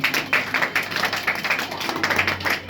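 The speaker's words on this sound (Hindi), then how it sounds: "इसलिए कृष्णा कुमार शर्मा को एक शानदार से तालियों का बधाई।" An audience at a weekly-test prize distribution claps for a student, producing a moderate, uneven patter of hand claps that continues steadily throughout.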